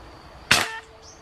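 Single sharp crack of an air gun fired at a bird while hunting, close and brief against quiet outdoor background.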